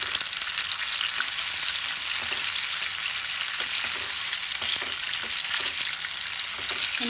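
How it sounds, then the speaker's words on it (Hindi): Paneer pakoras deep frying in hot oil, a dense steady bubbling hiss that stays even and close throughout, with faint crackles and no talking. "मेरे पकौड़े कैसे अच्छे से फ्राई हो रहे हैं"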